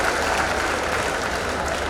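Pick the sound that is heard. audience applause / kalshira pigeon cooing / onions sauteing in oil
audience applause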